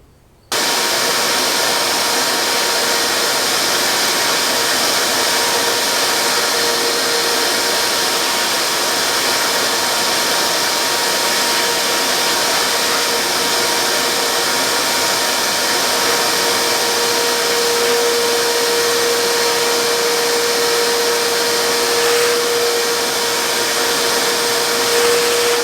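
A vacuum nozzle held about an inch above a limestone foundation sucks up loose debris, a loud, steady, unbroken whooshing roar that runs evenly from start to finish with no voices.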